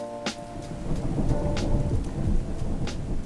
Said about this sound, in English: The air filled with the restless sounds of pelting rain and driving wind.